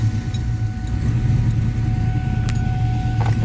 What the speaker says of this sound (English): So I'm gonna start it up real quick so you can kind of see what I'm talking about.